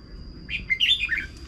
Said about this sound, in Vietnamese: Đấy mồi vẫn gọi đây anh em này.